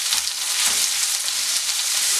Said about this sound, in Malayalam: ഈ സവോള നല്ലൊരു ഗോൾഡൻ ബ്രൗൺ നിറാവുന്നത് വരെയൊന്ന് മൂപ്പിച്ചെടുക്കണം.